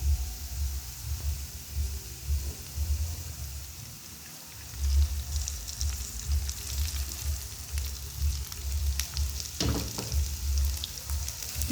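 Cooked rice tipped into a pan of hot tempering for pulihora and stirred, giving a continuous crackling sizzle with scraping stirs and a few sharper clinks of the spoon.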